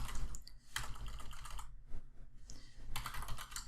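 Someone types steadily on a computer keyboard, with close-up bursts of rapid key clicks broken by brief pauses and no talking.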